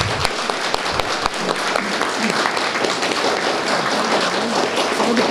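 Close, loud applause from a small audience welcoming journalist Paulo Eduardo Martins at a Conservative Party presentation and lecture, with individual hand claps and a few thumps distinct in the steady clapping.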